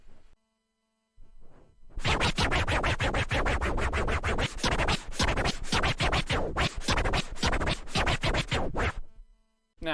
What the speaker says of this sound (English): move the fader over from right to the left, just a fraction, and move this record backwards and forwards